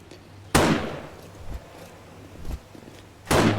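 Gunshots in the video game 7 Days To Die on Xbox One, two sharp loud cracks about three seconds apart with softer thuds and footstep-like knocks between them.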